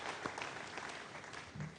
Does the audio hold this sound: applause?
yes